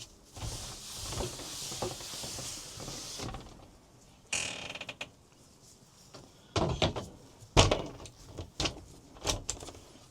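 An old motorhome door is wiped and handled, with soft rubbing at first, then scattered clicks, bumps and knocks of the door mechanism, close and fairly quiet.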